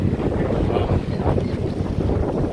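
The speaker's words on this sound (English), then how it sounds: "it is still very, very windy out right now" Heavy wind roars steadily against the microphone, a constant low rumble with no pauses, outdoors at a cruise port beside docked ships.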